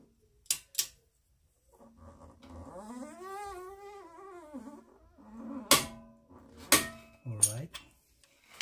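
Torque wrench clicking on the front driver-side CV axle of a 2017 Nissan Sentra SV 1.8L: a few sharp, close metallic clicks in two clusters, with a wavering tonal squeal in the quiet stretch between them.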